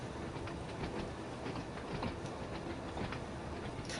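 Class 483 electric multiple unit train in Train Sim World 2 runs along the line, a steady rumble from inside with faint rhythmic wheel clicks and no voices.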